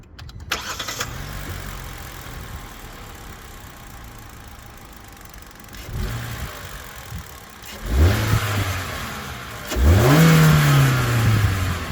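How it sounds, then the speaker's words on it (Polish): A Kia Picanto 1.2 DPI GT Line with an automated manual gearbox idles quietly, then gives two sharp revs that rise and fall, each louder than the steady running beneath them. "Silnik pracuje bardzo cicho i ma świetną kulturę pracy."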